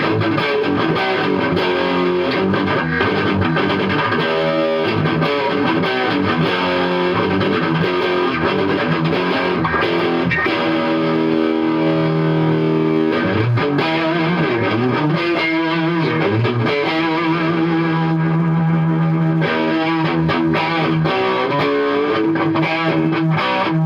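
Electric guitar played through a Gollmer Fat Dist distortion pedal, giving a loud, continuous run of driven chords and sustained notes that shift through changing riffs, with no voices.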